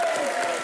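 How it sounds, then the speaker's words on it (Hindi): A studio audience on a televised comedy show breaks into loud, dense applause that fills the brief moment without pause. "हम थ्री की कास्ट के लिए जोरदार तालियां हो जाए एक बार।"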